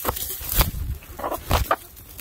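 A broody hen sitting on a clutch of eggs in a barn gives a few close, short clucks and grumbles in irregular bursts, with rustling between them.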